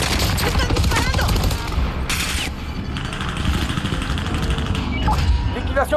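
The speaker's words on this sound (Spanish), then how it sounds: "¡Están disparando!" Dense, loud video game gunfire rattles almost nonstop in rapid bursts of automatic fire and impacts, with a voice shouting over the battle.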